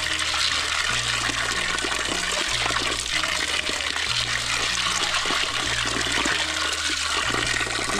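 Maize being washed in water to remove chaff and dirt, producing continuous loud sloshing and splashing with a steady rushing wash of liquid throughout.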